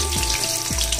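Onion with whole spices such as black pepper, cloves and green cardamom roasting in a pan for veg pulao, giving a brief, steady close-up sizzle with faint scraping stirs and no talking.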